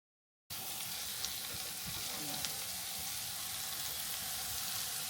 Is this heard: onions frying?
yes